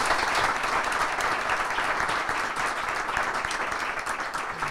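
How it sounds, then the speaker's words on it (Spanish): Sustained applause from a crowd, dense and steady clapping filling the whole stretch without pause. "Se han merecido este aplauso."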